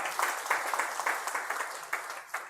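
An audience at an entrepreneurs' gathering and anniversary honours ceremony claps steadily for a couple of seconds, a moderately loud, dense patter of applause with a few sharper accents, fading toward the end.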